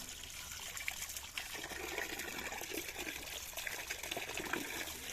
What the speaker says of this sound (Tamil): இதை நல்லா சுத்தமான தண்ணியில் வாஷ் பண்ணி எடுத்துக்கலாம்